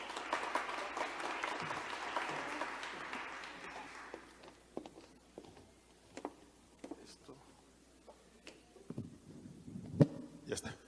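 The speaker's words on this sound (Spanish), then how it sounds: "con un fuerte aplauso." An audience at a talk on digital transformation applauds, a fairly faint burst of clapping that fades after about four seconds into scattered taps and shuffling.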